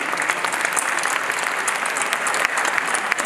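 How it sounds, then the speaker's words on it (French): Steady, dense applause from a crowd, a continuous wash of clapping with no pauses throughout. "nous nous invitons à s'élever et applaudir chaleureusement ce travail"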